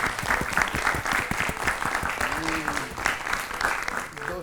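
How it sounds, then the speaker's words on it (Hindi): Applause breaks out for a correct answer on a children's school stage show, a steady dense clatter of many clapping hands close by, with a brief tonal sound passing underneath midway. "हो जाए एक बार फिर से जोरदार तालियां।"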